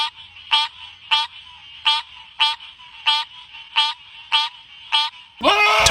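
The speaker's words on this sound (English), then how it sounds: "Top 4 Beatboxer Frog." A beatboxer frog calls in a loud, regular series of about nine short pulsed croaks, evenly spaced and close up, ending in a brief louder burst.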